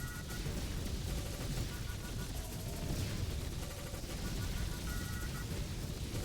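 Steady gunfire from bullet enemies in the game Picayune Dreams, a continuous rattle of shots and blasts at moderate loudness, with chiming game effects mixed in and someone talking over it.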